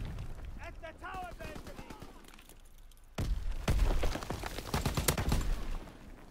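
Rapid bursts of FG 42 assault rifle fire in Call of Duty WW2 multiplayer, loud close automatic shots in the second half after a quieter stretch with a voice talking.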